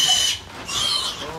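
Pigs on a farm, being rounded up for slaughter, let out shrill squeals and grunts at close range, loud and continuous in two main bursts.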